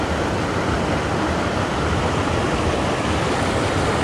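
Creek water in southern New Mexico brook trout country, rushing steadily as a loud, even broadband flow with no pauses and no voices.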